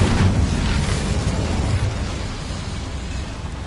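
A fire spell cast in Hogwarts Legacy on PS5, heard as a loud, continuous roaring whoosh with a deep rumble that bursts up at the start and slowly tapers over a few seconds, with no talk.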